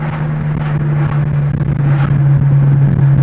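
An Abarth Punto Evo revs and pulls hard under acceleration, a loud, close engine drone with a steady tonal hum and small bursts layered on top, heard from inside the car.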